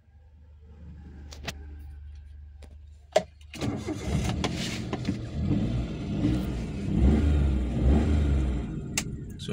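A 2012 Maruti Alto 800 LXi petrol-CNG car with 70,000 km on it cranks and starts after a sharp click, then idles and revs in uneven surges, close and fairly loud with no talk.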